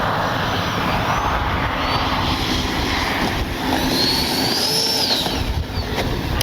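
A FlyFans L-39 64mm electric ducted-fan RC model jet whines steadily and loudly, its pitch sweeping up and down as the plane passes overhead at a flying field.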